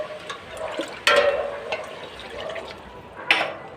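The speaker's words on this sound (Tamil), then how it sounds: "தண்ணி கொஞ்சம் ஊற்றிக்கோங்க லைட்டாக ஊற்றுனீங்க போதும்" Water poured lightly into an oyster mushroom gravy while cooking, heard as soft, close, intermittent splashing and trickling with a couple of sharper pours, alone without talk.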